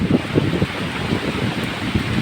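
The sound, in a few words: strong wind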